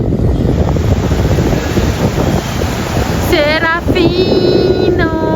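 Ocean surf rolls and washes at Paracas beach in Peru, with heavy wind buffeting the microphone and a person speaking briefly over the steady roar.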